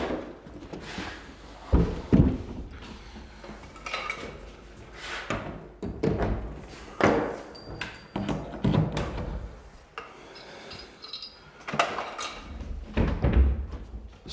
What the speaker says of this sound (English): we're going to go ahead and stick the door in the opening right here